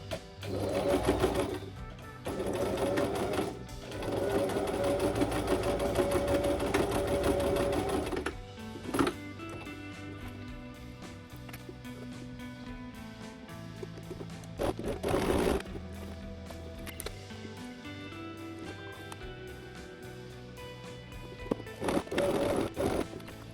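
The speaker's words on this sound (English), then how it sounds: "I'm just using a regular straight stitch to sew all these down here" A sewing machine runs a regular straight stitch to tack belt loops onto linen pants, whirring in several close bursts of differing length separated by brief pauses and small handling clicks.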